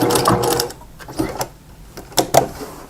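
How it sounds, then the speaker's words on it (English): A sewing machine back stitching a seam on a coupon wallet runs in short, rapid bursts of mechanical clatter separated by brief pauses, close and fairly loud. "now I'm going to back stitch because I've completed sewing"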